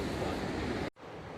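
A roaring river in a rainforest near Jasper, rushing toward the head of rapids, giving a loud steady wash of water that cuts out abruptly.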